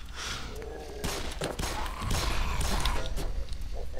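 Gunfire in the video game Black Mesa as a creature is shot, a dense burst of loud rapid shots and thuds running through most of the clip with a brief gasp.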